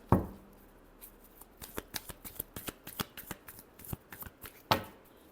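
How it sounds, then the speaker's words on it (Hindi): Tarot cards being shuffled by hand during a weekly Aries reading, a quick run of crisp riffling flicks and soft card slaps, close and fairly quiet, ending with a sharper snap. "Last shuffle."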